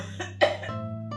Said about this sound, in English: She's coughing very bad.